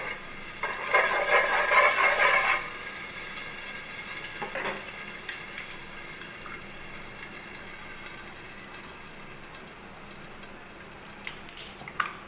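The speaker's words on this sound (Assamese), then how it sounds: "তাৰপিছতে ঘিউখিনি গৰম হোৱাত মই গাখীৰখিনি ঢালি দিছোঁ লাহে লাহে" Milk being poured slowly into hot ghee in a pan makes a brief hissing, bubbling sizzle that fades into a quieter simmer, with a few faint clinks near the end.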